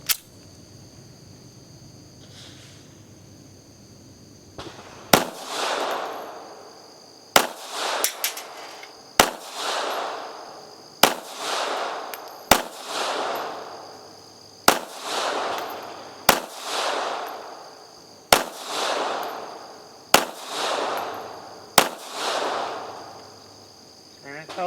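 A Sccy CPX3 .380 auto pistol fires about a dozen sharp shots at an irregular, unhurried pace, each crack followed by a short echoing tail, after a quiet lead-in.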